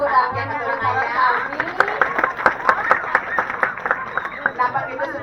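Audience clapping at a Calonarang performance: scattered, irregular claps build into steady applause, mixed with crowd chatter and voices throughout.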